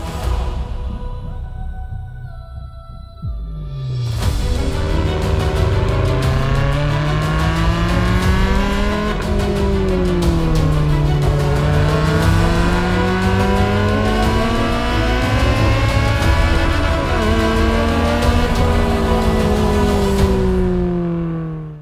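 A Ferrari 360 Challenge Stradale starts quiet, then its engine barks loudly and revs through rising and falling sweeps as it drives off, the loud, close engine tone climbing and dropping through gear changes for about fifteen seconds before easing off.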